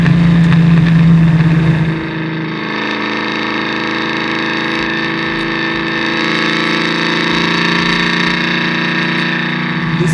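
A 550-horsepower 1963 Ford Falcon race car engine pulls hard from inside the cabin, one loud rev burst at first, then a sustained high, rasping drone as it accelerates.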